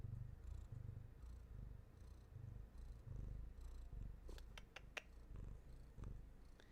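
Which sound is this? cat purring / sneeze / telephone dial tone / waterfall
cat purring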